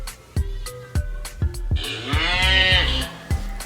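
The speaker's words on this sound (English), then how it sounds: "That's Celine Cow" A cow moos in a long, loud call from a children's alphabet show, set between several sharp, regular clicks or taps.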